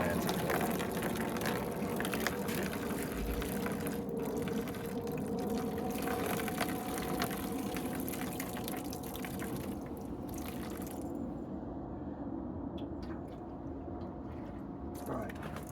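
Liquid drains from a part of a Honda CX500 motorcycle in a steady trickling, dripping stream, heard up close and continuous throughout.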